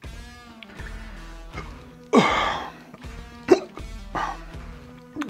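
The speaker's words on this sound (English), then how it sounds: "I got the hiccups." Someone gets hiccups after eating a Carolina Reaper pepper: a few abrupt, short, loud gulping catches stand out at irregular intervals against quieter breathy vocal sounds, close to the microphone.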